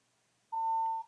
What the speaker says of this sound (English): Yeah, maybe it is a fire alarm.